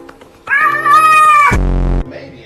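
A house cat gives a loud, drawn-out meow close by, a single strained cry lasting about a second, followed by a brief low thump or growl-like sound, amid an indoor dog-and-cat scuffle.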